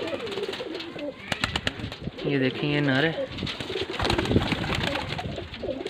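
Pigeons in a Faisalabad loft cooing close by, with a burst of throaty rolling coos in the middle and scattered softer calls and rustles, while someone talks over them throughout.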